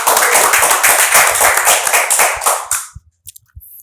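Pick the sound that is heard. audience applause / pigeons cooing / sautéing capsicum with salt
audience applause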